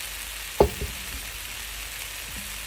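Quick noodle stir fry hissing in a hot pan, an even sizzle throughout broken by a sharp utensil knock and a few softer taps of tossing.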